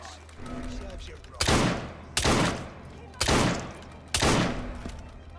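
Four loud, sharp bursts of gunfire in the action game Assassin's Creed Syndicate, each cracking out about a second apart over a low background rumble and trailing off with echoing decay.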